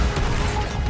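A Bombarda spell explosion in the Hogwarts Legacy video game: a loud, dense crashing blast with heavy low rumble, sustained for just under a second with no voices.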